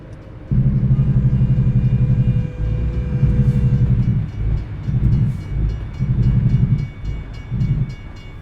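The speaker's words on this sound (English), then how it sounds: "Oh, we're stuck at a train up here." A long freight train rolls past a crossing in American Truck Simulator, a loud, steady rumble with rhythmic clacking of the wagons that rises and falls as the cars go by, with faint bell-like tones above and no talking.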